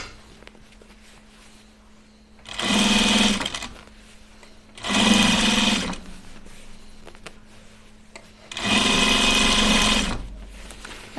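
Sewing machine stitching binding onto a backpack, three loud bursts of fast mechanical whirring separated by quiet pauses, with no talking.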